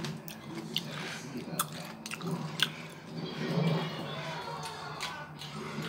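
Crunchy sugared fruit with its peel on is chewed up close, giving irregular moist crunches and squishy bites over several seconds, with no talking.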